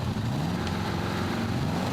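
Big Mama 2, a modified-class pulling tractor with twin turbocharged V8 diesel engines, roaring steadily at a tractor pulling event in Brande, Denmark, a loud continuous engine drone with a rising pitch sweep.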